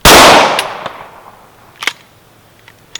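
A single loud pistol shot from a Glock or 1911 fed by a KCI Gen 2 extended 50-round magazine cracks sharply at the range, then decays, followed by a few small faint clicks and clatters.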